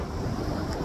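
Ocean surf rolls onto a cold beachfront at Myrtle Beach, South Carolina, a brief steady rumble of waves mixed with wind buffeting the microphone.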